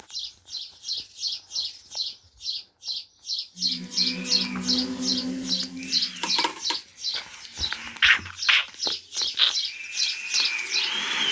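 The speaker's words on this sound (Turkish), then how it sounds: "Çik çik çik ötüyorlar." Small birds chirp in rapid, repeated bursts, close and lively, with a low droning hum joining partway through.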